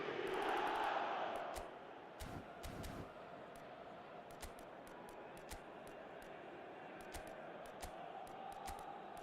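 A stadium crowd in the eFootball PES 2025 football video game roars loudly for a couple of seconds, then settles into a steady distant murmur of chanting fans with faint ticks over it.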